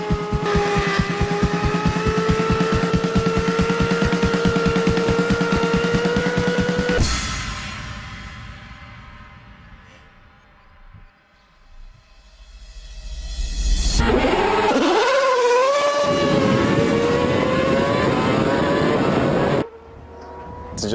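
Formula race cars sit at the start with a loud buzzing engine drone, fall to near quiet, then roar back with rising revs as they launch away.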